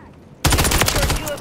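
Rapid automatic gunfire from a weapon in a first-person shooter game, a loud sustained burst of closely spaced shots that kicks in suddenly after near silence.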